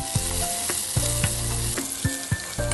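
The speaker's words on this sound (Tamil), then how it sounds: "இந்த நறுக்கி வச்ச பெரிய வெங்காயத்தை இதோட சேர்த்து நல்லா வதக்கிடலாம்." Chopped onions fry and sizzle in hot ghee with spices, with steady crackling broken by several sharp stirring clanks of a spoon against the pan, close and fairly loud, with no voices.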